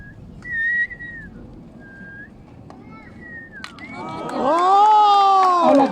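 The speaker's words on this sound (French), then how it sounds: "j'aimerais que tout le monde frappe dans ses mains crie, siffle" A crowd at a street juggling show reacts: scattered whistles at first, then a swell of cheering, shouting and children's voices building loudly near the end.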